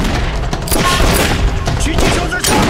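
Rapid bursts of sniper and small-arms gunfire crack through a loud, chaotic kung fu film battle at a Japanese military base. The shots are dense, near and continuous across the whole stretch.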